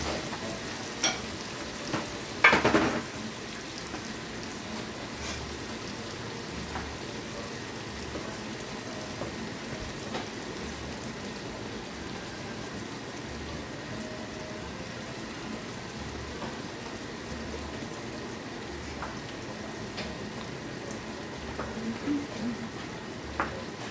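Burger patties sear on a beachside griddle in a continuous, even sizzle and crackle, heard close and steady throughout, with a brief louder scrape near the start.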